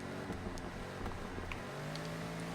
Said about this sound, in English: I can hear another car very close to him